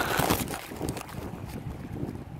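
Wind buffets a phone microphone at the seaside in Bahrain, a steady, loud, rough rumble that gusts and holds for the whole stretch with no voices.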